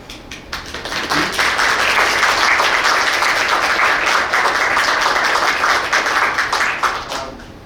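Applause from people attending a city council meeting, a steady crowd of clapping hands that swells quickly, holds for several seconds at moderate loudness, then tapers off at the end.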